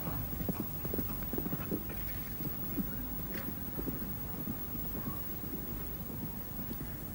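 Horse hooves clip-clop steadily on the course at the 1989 Badminton Horse Trials, a rhythmic run of soft thuds under outdoor wind noise.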